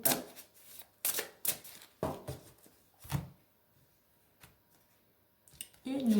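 Tarot cards being cut and shuffled by hand, a series of close, soft riffling flutters and slaps in irregular bursts with quiet gaps between.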